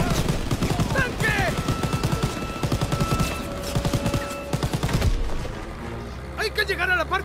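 Gunfire in the World War II shooter Call of Duty WWII: dense rapid bursts of automatic fire crackle steadily under loud, urgent shouting, then stop, leaving a near-silent pause before voices return.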